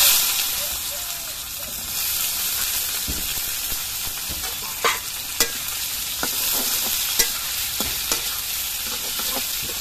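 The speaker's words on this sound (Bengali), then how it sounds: "এবার এর মধ্যে আমি কেটে রাখা পেঁয়াজগুলো দিয়ে দিচ্ছি" Chopped onions hit hot oil already crackling with whole cumin seeds in a pan while cooking muri ghonto: a steady, close sizzle with stirring scrapes and a few sharp pops, no talking.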